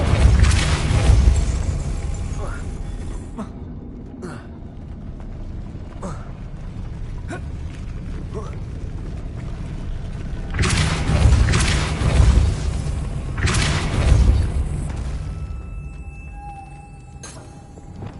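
Spell blasts in Hogwarts Legacy, with booming impacts and creaking, rumbling debris, loud and close. Several heavy bursts hit over a steady low mechanical rumble.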